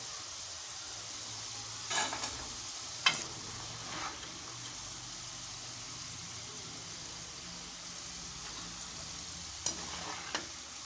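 Taro root (arvi) frying in hot oil: a steady close sizzle throughout, with a few brief clinks and stirring knocks, no talking.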